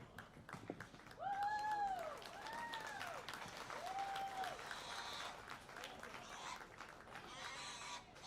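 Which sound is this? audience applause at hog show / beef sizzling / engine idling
audience applause at hog show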